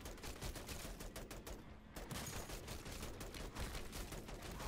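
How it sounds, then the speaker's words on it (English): Gunfire in MW3 Zombies with the weapon set to single fire, a rapid run of sharp shots fairly quiet in the mix, a brief pause partway through, then continuing, with no voice. "I'm going to try this gun in single fire."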